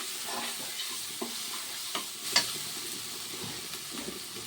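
Spice masala of cumin and coriander powder fries in a pan for a fish dish, a steady low sizzle broken by several scraping stirs and light clinks of the spoon, with no talking.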